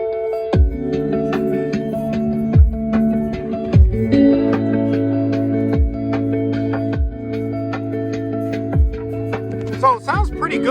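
Loud rhythmic music with deep periodic bass thumps and sustained tonal lines fills the cabin of a refreshed 2025 Mitsubishi Outlander through its new Yamaha sound system, with brief voice-like sounds near the end.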